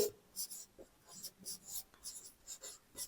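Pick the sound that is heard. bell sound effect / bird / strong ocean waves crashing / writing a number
writing a number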